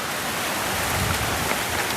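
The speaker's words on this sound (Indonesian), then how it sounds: "Maaf ini anginnya kencang kalau mengganggu kualitas" Strong outdoor wind buffets the microphone in a steady, loud roar of broadband rumble with no pauses.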